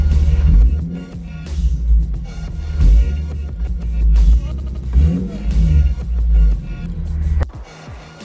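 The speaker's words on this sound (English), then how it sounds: "Car sounds to be running smooth." An Infiniti G37 coupe engine runs after an oil change, a steady low rumble with small swells in revs that stays close and clear throughout.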